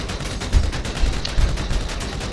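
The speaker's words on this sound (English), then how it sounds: "54 rounds combat MG. This is a lovely weapon." A combat MG machine gun fires in the video game GTA V, a few short, loud, rattling bursts repeating over a couple of seconds with a dense mechanical background.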